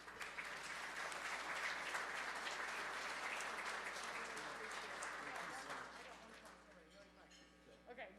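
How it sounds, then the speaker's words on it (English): An audience at a Heroes For The Homeless event applauds and cheers in a dense, sustained burst of clapping that fades toward the end, with voices mixed in. "so these guys are cheering for a reason"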